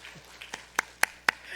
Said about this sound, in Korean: 우리 다시 한번 박수 한번 하겠습니다